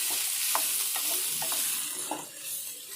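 Pieces of gooseberry (amla) fry over a low flame in a pan, a steady close crackling sizzle broken by several soft scraping stirs at regular intervals, with no voices.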